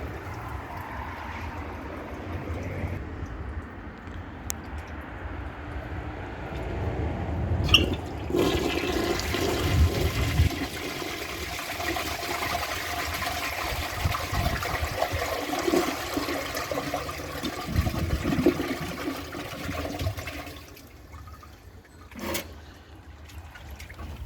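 An American Standard Plebe toilet flushes four disposable face masks down, a loud sustained rush and swirl of water close by, followed by the tank refilling with a steady hiss and trickle.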